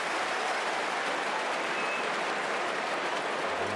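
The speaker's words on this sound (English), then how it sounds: "huge round of applause rang around the SCG" A big stadium crowd at the SCG applauds steadily through an AFL match between Sydney and Greater Western Sydney, forming a dense, even roar of clapping with no break.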